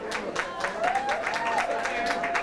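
Applause from a crowd at a drag pageant in a show lounge, steady clapping throughout, with a sustained vocal tone or cheer riding over it.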